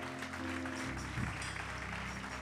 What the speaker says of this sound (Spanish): Aplaude la gloria de Dios.